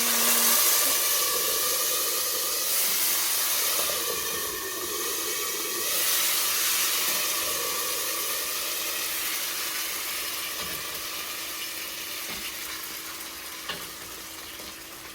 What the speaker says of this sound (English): my mom is now pouring the beans inside the pot